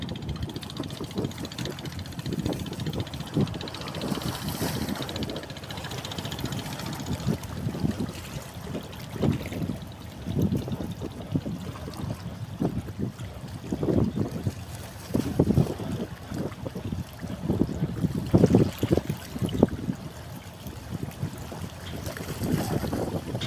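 A small boat moves across the water near a harbour, with engine drone, splashing and heavy wind buffeting the microphone throughout, a continuous rough wash of noise.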